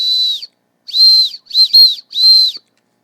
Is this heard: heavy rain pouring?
no